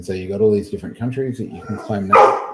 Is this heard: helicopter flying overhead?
no